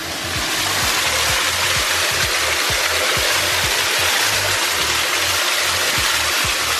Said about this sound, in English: Behind the waterfalls.